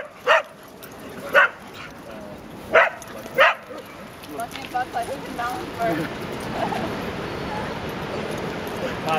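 Six dogs play at Great Falls beach, giving four sharp barks early on before settling into softer yips and scuffling, with human voices faintly in the background.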